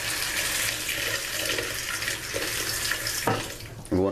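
Water gushes steadily from a tap, splashing into a bowl of rice nearby, then cuts off briefly before a final splash near the end.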